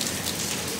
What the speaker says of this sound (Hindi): देखो अभी बारिश हो रहा है